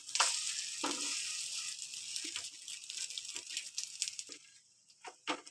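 A bread omelette fries in a pan with a soft, steady sizzle, punctuated by a few light clinks and scrapes as it is turned, all fairly faint and close.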